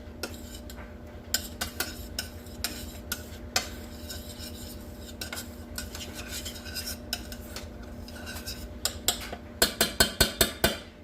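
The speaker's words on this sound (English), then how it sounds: "Saute that around." Ingredients being sautéed in a pan for cheesy gratin potatoes, mostly clinks and clatters of a utensil against cookware over faint sizzle, with a quick run of metallic taps at the end.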